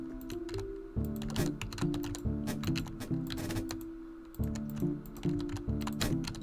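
Computer keyboard and mouse are clicked rapidly and irregularly during PC play of RD Mars, with close, crisp keystrokes in bursts over steady in-game tones.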